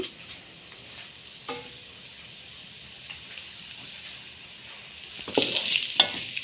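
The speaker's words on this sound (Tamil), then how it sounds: "வெங்காயமும் சேர்ந்து கொஞ்ச நேரம் நல்லா வதங்கட்டும்" Onions sautéing in a pan for chicken kottu roti, a soft steady sizzle with occasional utensil scrapes and stirs, growing louder and busier near the end; no talking.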